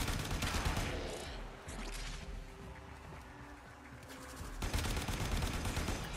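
Warframe gunfire comes in rapid automatic bursts, with a steady stream of close shots, a quieter stretch in the middle, and then a loud burst again at the end.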